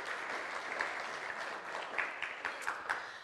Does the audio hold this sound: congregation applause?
yes